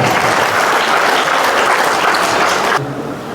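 A crowd at a political rally in Haryana applauds loudly in a dense, sustained burst of clapping that drops off sharply near the end.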